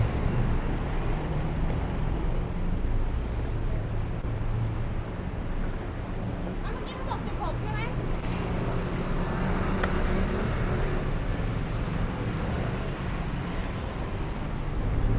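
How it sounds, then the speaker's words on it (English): Busy road traffic near Pratunam Market in Bangkok, a dense, continuous roar of cars, buses and motorbikes passing close by, steady throughout with no clear voices. "There's so much traffic on the road."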